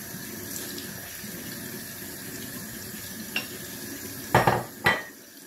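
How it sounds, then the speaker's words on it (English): A bathroom tap runs water over a traditional safety razor with its head loosened, a soft steady stream with a few louder splashing bursts near the end as the razor is rinsed. "I even loosen the head slightly and let the water run between the head and the base and the blade"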